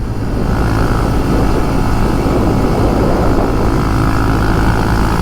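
A tractor engine follows close behind a 2022 Honda Monkey motorcycle on the road, giving a loud, continuous rumbling drone thick with wind noise that holds steady throughout.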